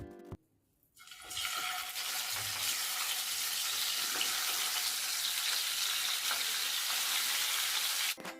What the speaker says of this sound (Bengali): সামান্য লবণ ছড়িয়ে মাছের পিসগুলোকে ভেজে নেবো